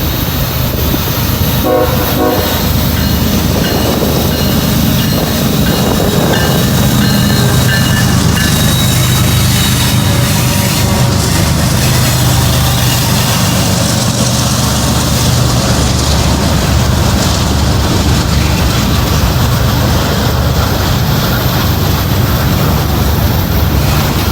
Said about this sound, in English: Looks like it might be a mixed freight, mixed manifest. He's pulling hard.